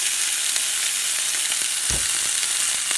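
Corn cobs sizzling in butter inside a pot make a steady, loud, close crackling hiss, with one soft bump near the middle and no voices.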